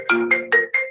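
A phone rings in a quick series of four bright, tonal bursts, loud and close, with no talking over it.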